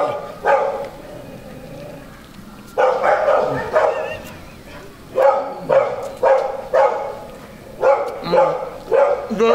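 A dog barks repeatedly in short bursts, loud and close, with several rapid barks near the end, in a dramatic indoor scene.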